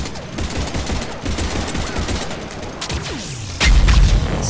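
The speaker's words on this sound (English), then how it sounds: "Let's see what this pistol can do." Video game pistol fire cracks out in a rapid, dense string of shots, with a heavier, louder burst of booming fire near the end and no talking.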